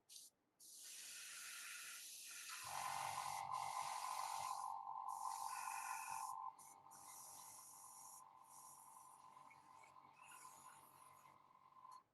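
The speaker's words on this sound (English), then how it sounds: "I hope nothing gets stuck in the airbrush so I don't have to waste the paint." Airbrush spraying paint, a steady close hiss that holds for several seconds, shifts in tone partway through, then continues a little softer before cutting off.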